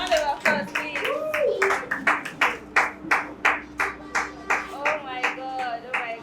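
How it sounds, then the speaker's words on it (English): Rhythmic clapping in unison at a children's coding competition in Port Harcourt, steady beats repeating about twice per second, with singing or chanting voices over the claps and a steady tone running beneath. "A round of applause, please."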